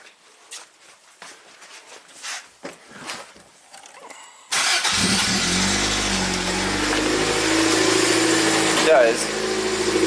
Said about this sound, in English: Let's see if the car starts and runs.